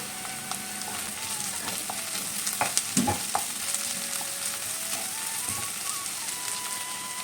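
Curry leaves sauté in a pan with ginger-garlic paste for Kerala-style prawn fry, a steady crackling sizzle broken by a few sharp pops and spatula clinks partway through.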